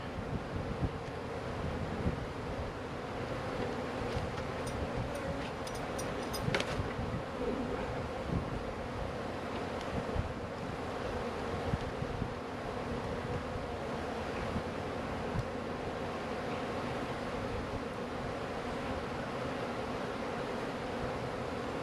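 Honey bees buzz steadily around an opened swarm trap during a hive inspection, a dense continuous drone with faint wind noise and no talking.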